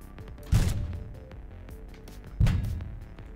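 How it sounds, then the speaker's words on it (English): Two heavy shotgun blasts ring out in the video game Heat Signature, about two seconds apart, each a loud booming burst with a decaying tail. "Shotgun."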